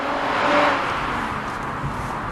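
A 1994 Ford Probe car engine gives a steady, full-bodied drone close by, with a slight swell early on and no voices.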